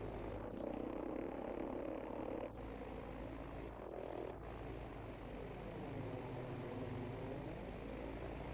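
Airplanes in a video game drone overhead with a steady, faint propeller hum, the pitch sweeping as they pass, alongside a low constant engine rumble.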